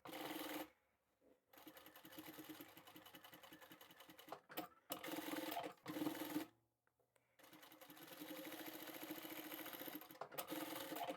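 Sewing machine stitching fabric along zipper tape on a beach towel's hidden pocket lining, running in steady bursts with short pauses between runs, close and moderately loud.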